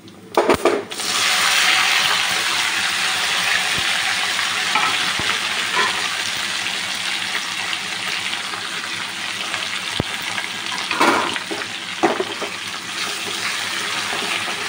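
Continuous loud sizzling of chopped vegetables, including drumsticks, frying in hot tempering oil, with occasional clatter of stirring and a few sharp knocks.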